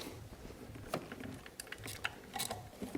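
A ratchet clicks in short bursts while tightening ignition coil bolts on a GM 3100 engine, quiet close-up mechanical ticking with brief pauses between strokes.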